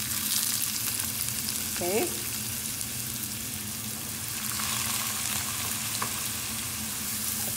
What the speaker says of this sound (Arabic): بعدها راح احط البصل